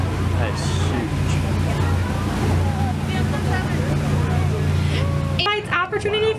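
Engine of a large laker freighter ship heard from a tour boat near the 1000 Islands and Alexandria Bay, New York: a constant low droning hum with wind and water noise, people talking over it, and the drone cutting off near the end.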